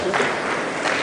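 Audience at an ODM party meeting at Bomas in Kenya claps in a steady, dense burst for about a second, with a crowd murmur mixed into the clapping.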